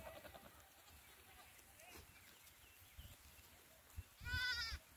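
A sheep bleats once near the end on open upland grazing ground during a hot day with a shepherd's flock; faint voices and outdoor ambience fill the quieter stretch before it.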